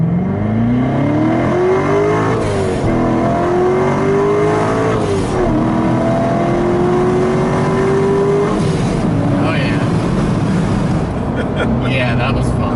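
A Procharged C7 Corvette Stingray Z51 accelerates hard in first gear, its engine note climbing steadily through the rev range, dropping briefly and climbing again, loud and close from inside the car, with a voice talking over it.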